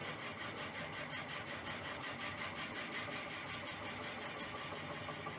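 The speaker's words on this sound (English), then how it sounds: "I'm drilling at 330" Deer antler pen blank being drilled on a lathe spinning at 330 RPM: a steady, gritty grinding whir with a faint pulsing rotation, continuous and fairly close, with no talk.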